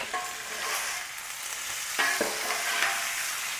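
Beef steak sizzles steadily on a Blackstone flat-top griddle during a stir fry, with a continuous loud frying hiss and a few brief scraping stirs from a utensil partway through, and no talking.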